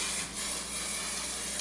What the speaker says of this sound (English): We're gonna spray my hair and hope that it comes out.